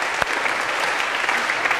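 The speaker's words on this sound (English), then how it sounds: "So after a big round of applause." Steady, dense applause from a lecture-hall audience in a computer science class, filling the short moment at an even level with no voices over it.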